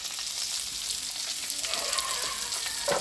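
Potatoes frying in a pan, a constant bright hissing sizzle filling the scene at an even level, with light stirring scrapes near the end.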